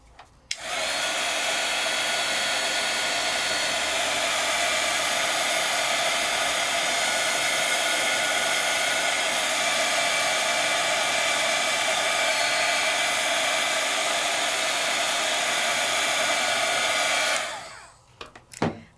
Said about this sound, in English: I need to go back in and heat emboss right on top of the ink